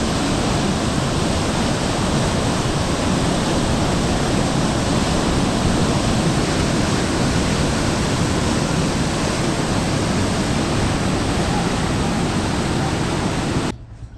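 Floodwater at Harike Pattan rushes under heavy pressure, a loud, dense, unbroken roar that holds steady for the whole stretch before cutting off abruptly near the end.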